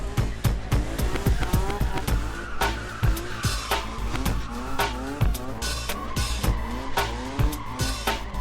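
Rally race cars run on a track, engines revving and surging while tires squeal and skid in a string of sharp, repeated bursts close by.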